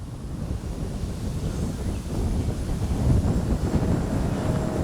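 Continuous low rumbling wind buffets the microphone at an RC jet airfield after an X-Fly 40mm J-65 flight, growing slightly stronger toward the end, with no voices.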